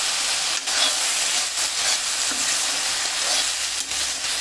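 Vegetables fry in mustard oil with salt and turmeric in a pan for dhaba-style aloo methi, giving a steady close sizzle with faint stirring scrapes throughout.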